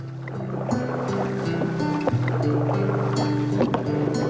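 A canoe moves across a lake in Algonquin Provincial Park, with gentle paddle strokes and water lapping under steady wind noise, plus faint knocks and splashes at irregular moments.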